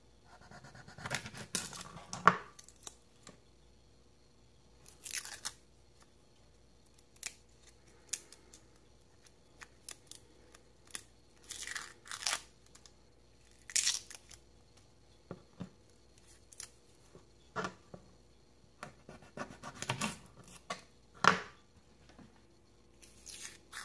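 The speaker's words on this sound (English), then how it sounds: "Let's get mincing that garlic" A knife mincing garlic on a cutting board makes sparse, sharp cutting clicks in irregular clusters, quiet and close, separated by near-silent gaps.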